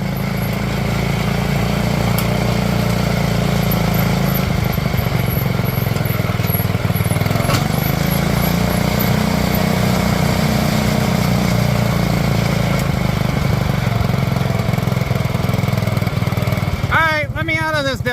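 A John Deere 110 lawn tractor fitted with a Predator 212 engine runs loud and close, a steady droning engine note held throughout, with people talking over it.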